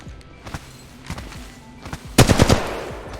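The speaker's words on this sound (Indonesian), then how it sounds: "Sebenarnya bisa juga ya untuk kayak nembak musuh yang bener-bener di balik celah gitu ya." Gunfire from a first-person shooter game while practising bunny hopping: a few scattered shots early, then a loud rapid burst of automatic fire near the end, with faint footsteps underneath.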